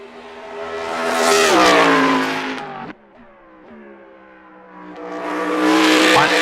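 Race car in a racing video game on a circuit such as Mugello: a loud engine revving up through a pitch sweep, a sharp drop around a gear change or lift, then climbing again, with whining tyre squeal on top and no talk.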